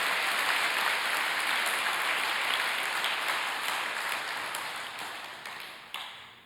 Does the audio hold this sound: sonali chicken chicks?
no